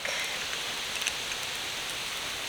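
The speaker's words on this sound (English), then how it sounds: "It's sizzling a little bit." Garlic sizzling in a hot pan while frying, a soft continuous crackle and hiss that is fairly faint and steady, with no talking.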